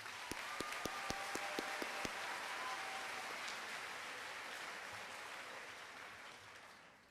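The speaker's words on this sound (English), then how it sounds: "so give him a round of applause." Fairly distant applause from the audience at an 8th grade school completion ceremony, a few distinct claps at the start swelling into a soft, sustained wash that gradually fades.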